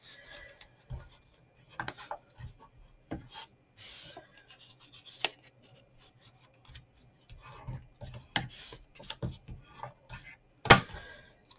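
Sheets of paper being folded in half and creased for handmade gift packages, giving soft rubbing and rasping scrapes in irregular bursts with a few sharper crinkles, close and alone without talk.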